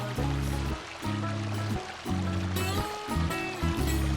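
A garden waterfall and stream run with a steady rushing splash that continues throughout, interrupted by a few brief pauses and low thumps, with no one speaking.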